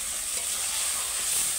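Yogurt-marinated chicken hits hot frying spices in a pan for chicken kosha, giving a steady, close, broadband sizzle with a continuous hiss and no talking.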